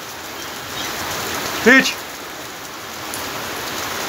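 Rain falls steadily with a continuous soft patter throughout, while a single short word is called out midway over it.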